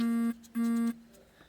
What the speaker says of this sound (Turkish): Arkadaşlar mesaj geldi.